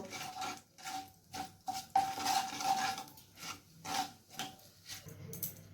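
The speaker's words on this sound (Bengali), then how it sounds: "এরপর 10 সেকেন্ডের মতো আমি নাড়াচাড়া করে নেব।" Cloves, cardamom, cinnamon and a little sugar stirred in a pan for a chicken kosha: repeated scraping and rubbing strokes of a spatula against metal, with small clinks, steady and close, no talking.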